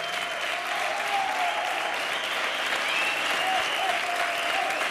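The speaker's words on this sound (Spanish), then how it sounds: "Un aplauso." A studio audience applauds on a Spanish television game show, continuous dense clapping throughout, with faint voices under it.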